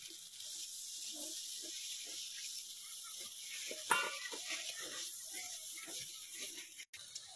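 Coconut milk hits a fried spice paste of salt and turmeric in oil for brinjal malai curry, setting off a steady bright hiss and sizzle that continues while a voice talks over it.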